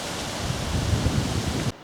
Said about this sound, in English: Evidence of the strength of the wind as we approach autumn.